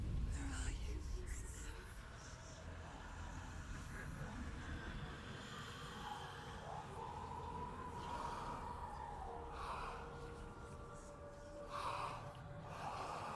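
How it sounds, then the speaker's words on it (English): Heavy, ragged breathing with sharp gasps and snorts sounds amid whispering voices and dark ambient tones in the video game Hellblade: Senua's Sacrifice, close and fairly quiet. "It's breathing."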